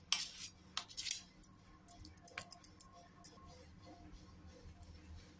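A knife slicing soft coconut barfi into pieces on a plate or tray gives a series of faint, light clicks and taps, irregular and close, clustered in the first few seconds before fading to quiet.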